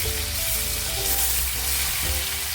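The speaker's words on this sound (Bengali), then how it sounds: "আর এখন আমি দিয়ে দেবো কুচনো টমেটো" Chopped tomato hitting hot spices in a pan, a loud, steady, close sizzle with crackling throughout, no voices.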